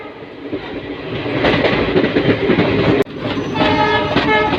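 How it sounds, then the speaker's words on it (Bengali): A train rolling into Kamakhya junction at night gives a loud rattling rumble with clacking wheels and a horn sounding in bursts, heard up close with a brief sharp break midway. "ট্রেন আমাদের প্রবেশ করছে এখন কামাখ্যা জংশনে"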